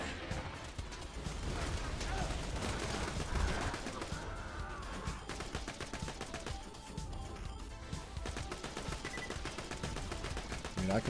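Sustained video game gunfire, dense machine-gun bursts with crashing impacts, keeps up loudly throughout, and a voice talks over the shooting at times.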